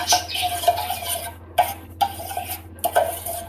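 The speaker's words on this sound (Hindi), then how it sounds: "चम्मच मुसलसल हिलाते रहना।" A spoon stirs homemade soy sauce in a pot, giving repeated scraping, knocking clinks against the metal sides at an irregular pace, close and fairly loud, with no talking.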